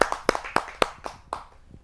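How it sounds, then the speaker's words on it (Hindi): An audience claps to welcome a poet onstage at a kavi sammelan, with scattered, sharp handclaps in a loose rhythm that thin out and fade over a couple of seconds. "आप सबकी जोरदार तालियों से"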